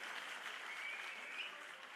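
Audience at a meeting between auto and taxi drivers in Ludhiana claps in a dense, even wash of applause, faint and distant, with no voices over it.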